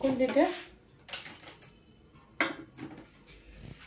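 Cutlery clinks and scrapes against a pan while food seasoned with salt and parsley is stirred, a few sharp separate knocks with quiet gaps between them, close by and with no speech.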